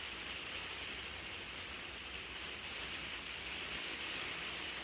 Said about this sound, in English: it's raining and it's very loud in my conservatory